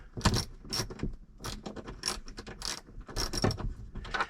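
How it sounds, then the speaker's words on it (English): An impact wrench works the bolts on a custom Peterbilt drop visor, where the bolts keep spinning, in a string of short, rattling mechanical bursts with brief gaps between them, close and fairly loud. "Hit it with the impact on the outside because the lock washer's on the inside."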